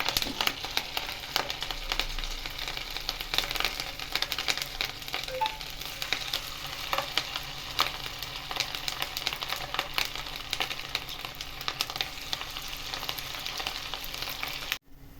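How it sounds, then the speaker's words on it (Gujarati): Semolina (sooji) chakri frying in hot oil, a steady dense sizzle and crackle lasting throughout, close and even, ending abruptly. "તો હવે તેને તેલની અંદર એડ કરીશું"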